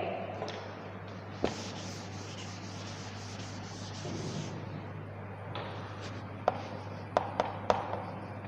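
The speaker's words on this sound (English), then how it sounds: "Okay, I will write on the board." Chalk or marker scratches steadily across a classroom board in a long continuous stretch, followed by a few sharp taps and short strokes, over a low room hum with no talking.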